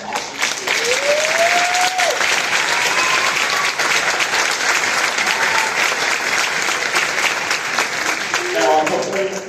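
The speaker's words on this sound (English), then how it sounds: "please join me in a round of applause for these awesome students" Loud, sustained audience applause for school band students at an intermediate school spring band concert, steady clapping continuing for the full stretch with a few faint voices and whistles mixed in.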